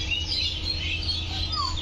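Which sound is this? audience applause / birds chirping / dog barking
birds chirping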